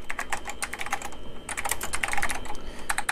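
Fast typing on a restored vintage mechanical keyboard: crisp, close clacking keystrokes in quick bursts, with a brief lull before the rapid clatter resumes.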